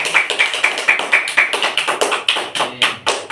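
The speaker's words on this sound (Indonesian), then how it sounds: "berikan tepuk tangan kepada kelompok" Small classroom group gives a round of applause, heard as a sparse, rhythmic series of distinct hand claps, fairly close and evenly spaced, roughly a dozen in a few seconds.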